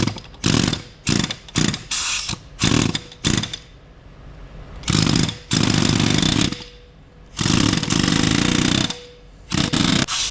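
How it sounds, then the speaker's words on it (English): Loud repeated bursts of an air chisel driving parts down onto the hub of a 1986 Chevy K30 truck, several rapid hammering blasts in quick succession, then longer sustained bursts separated by short pauses. "just hit them with the air chisel real quick and get them down in there"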